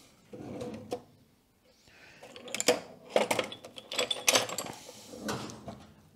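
A wrench undoes screws on an Opti-Turn lathe and mill drill combination, giving a few uneven metallic clanks, scrapes and rattles, close by and in short bursts, with no talking.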